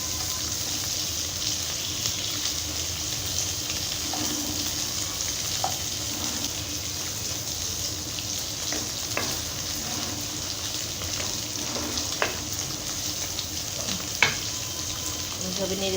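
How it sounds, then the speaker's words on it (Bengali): Coriander leaf curry frying and being stirred in a pan over medium heat, a steady close sizzle with scattered clicks and scrapes of the spoon throughout, no talk. "এইভাবে নেড়ে চেড়ে সাবধানে নাড়তে হবে আর ভেজে নিতে হবে।"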